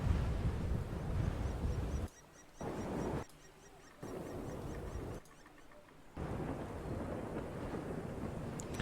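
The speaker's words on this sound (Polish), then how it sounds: "Jeszcze bu burza jest, kurna." Thunderstorm on a World of Tanks map: loud rumbling thunder and wind-driven noise in bursts, broken by short near-silent gaps, with no talk.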